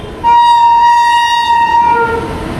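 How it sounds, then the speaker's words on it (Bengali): A loud, sustained train horn blasts close by for about two seconds as the train arrives at a station, a rich harmonic tone over the rumble of rail noise. "চলো, ট্রেন চলে এসেছে"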